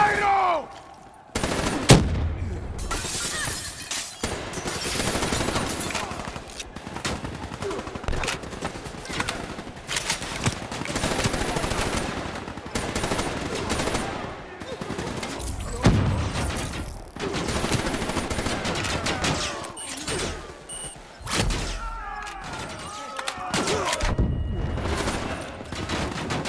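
Gunfire rattles almost nonstop in Call of Duty: Black Ops III, with dense machine-gun bursts and single shots, loud and close, amid battle noise, explosions and shouted voices in a street fight in Cairo.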